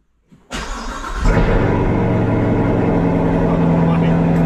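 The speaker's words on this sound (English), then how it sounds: "That Corsa Extreme, when a cold start, man, that is loud." A Corvette Z06 convertible with a Corsa Extreme exhaust cold-starts outdoors with its top down: a brief starter crank, then a sudden loud bark and a further surge before settling into a deep, rumbling idle close by.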